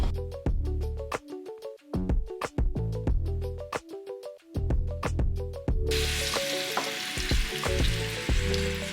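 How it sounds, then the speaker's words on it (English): Curry chicken patty filling of curry powder seasoned chicken frying in a pan, a steady close sizzle under tonal background music, turning brighter and louder about two-thirds of the way through. "I'm gonna let this pan fry for a while"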